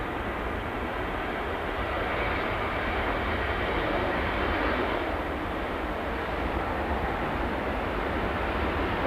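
A Ryanair jet arriving at Manchester Airport on approach, its broad, steady engine roar holding at an even level throughout, fairly loud and continuous with no voices.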